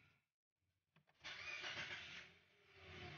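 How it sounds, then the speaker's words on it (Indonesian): Mitsubishi Xpander engine starting: a brief starter crank, then the engine catches and settles into a steady, close idle in a quiet setting. "Ini saya hidupkan mesin ya."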